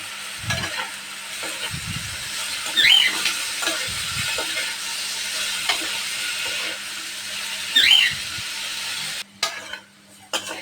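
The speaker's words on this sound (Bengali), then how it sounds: "আলুটা একটু ভালো করে ভেজে" Potato pieces fry in oil with onion, green chillies, salt and turmeric in a home kitchen pan, giving a continuous sizzle broken by a few stirring scrapes and utensil clinks, close up and without speech.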